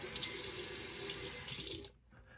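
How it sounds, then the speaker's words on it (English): Tap water runs steadily into a sink as the face is wetted before a shave with Ariana and Evans Incense & OUD soap and an H2C hybrid safety razor, close and fairly loud, then cuts off abruptly near the end. "Let me just wet the face here."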